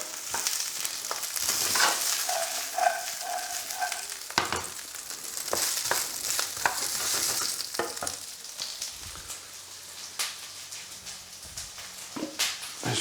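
Garlic scapes sizzle and fry in a thin layer of leftover bacon fat, a steady crackling hiss running throughout with occasional stirring clatter and brief quieter stretches.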